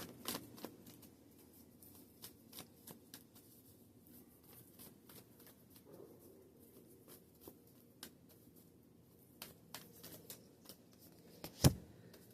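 Moon oracle cards shuffled by hand, a soft papery riffle and patter with scattered light snaps and one sharper slap near the end, quiet and close in a calm room.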